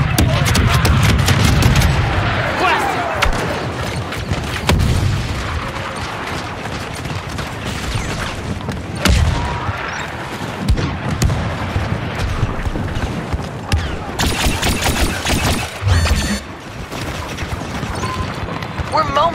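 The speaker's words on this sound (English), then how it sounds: "Incoming mortar strike." Mortar strike explosions in the Star Wars Battlefront 2 video game on Starkiller Base, with repeated heavy booms and dense battlefield gunfire running continuously under game voices.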